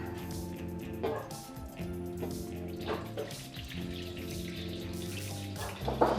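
Water is poured off from a container holding settled starch from a native tuber, giving a trickling, splashing flow with small drips and clinks under a steady low hum.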